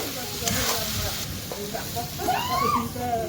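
Crushed ginger and garlic sizzle in a hot pan while a chicken curry is cooked, a steady broadband frying hiss with a faint voice at times beneath it.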